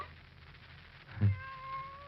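A cat meows once in a radio drama, a single short near cry over a faint background hum, with no talk over it.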